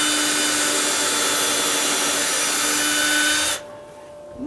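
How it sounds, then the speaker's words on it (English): A power drill runs continuously at close range into wood with a steady whine, then cuts off abruptly near the end. "drill this up into the first one"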